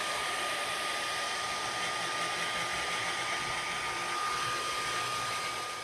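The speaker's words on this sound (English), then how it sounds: "I'm gonna go ahead and dry this with my blow dryer to speed up the process" A hair dryer blows steadily to dry paint on a custom backpack, giving a constant airy whoosh with a thin high whine, nearby and uninterrupted, with no voices.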